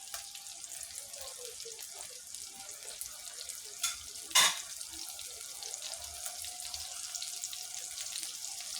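Ginger garlic paste frying in hot oil in a wok, a faint, steady crackling sizzle with one or two sharper spits partway through, no talking.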